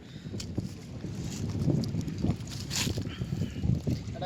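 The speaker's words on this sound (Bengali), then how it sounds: "আজকে বাতাস বইছে প্রচুর বুঝতে পারছো হয়তো সাউন্ডে" Strong wind buffets a small fishing boat on the Ganges river, rumbling in low gusts against the microphone with occasional water splashes, moderately loud and continuous.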